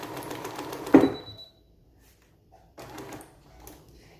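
A sewing machine runs with no bobbin loaded, making short mechanical clattering bursts with a sharp clunk, a pause of silence, then another brief whirring run.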